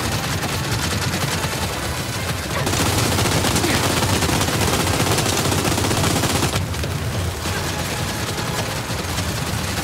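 Loud, continuous automatic gunfire in Gears 5 roars without pause, dense and close, swelling in the middle with heavier overlapping bursts before easing slightly.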